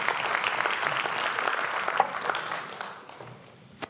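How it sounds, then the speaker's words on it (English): A room full of people at a tech talk on open source claps warmly, dense and steady at first, then thinning and fading out toward the end. "give Chris a warm applause for his awesome talk"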